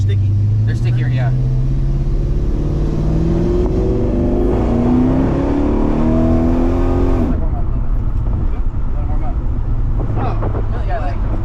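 A 1972 Oldsmobile Cutlass engine runs loud and close after a cold start, climbing in pitch as it revs for several seconds before dropping back to a rough, rumbling idle, with voices faintly audible over it.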